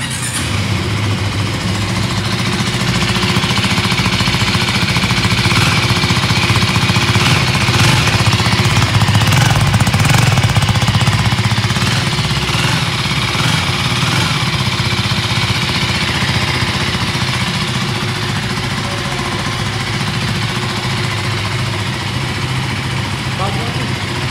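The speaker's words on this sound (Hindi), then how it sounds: "इस बाइक के ऊपर अपनी सुनाता हूँ आप सबको इंजन साउंड" A 2024 KTM Duke 390 motorcycle engine runs steadily up close, a loud rattling idle with a slight swell in revs partway through.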